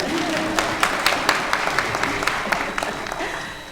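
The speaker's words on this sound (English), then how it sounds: "Now you can applaud." A conference audience at an opening plenary session claps steadily for a few seconds, with a fairly loud, even spread of hand claps and a few sharper individual claps.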